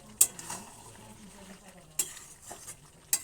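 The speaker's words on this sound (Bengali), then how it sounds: "জলটা যতক্ষণ না শুকাবে ততক্ষণ আমরা মাংসটাকে ভালোভাবে কষিয়ে নেব" Goat meat being stir-fried in a pot as its released water cooks off, a faint low sizzle punctuated by three sharp metallic clanks of a spoon against the pot.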